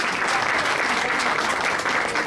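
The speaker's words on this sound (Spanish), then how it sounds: "Perfecto, un aplauso." Steady, dense applause from an audience at a university event in Suba, loud and continuous throughout with no break.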